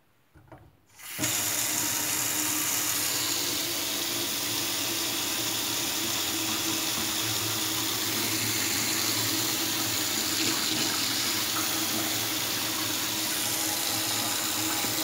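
A kitchen tap running brownish, discoloured water in Jordbro is turned on after a second of near-quiet, then gushes in a loud, steady, close rush into the sink for the rest of the stretch.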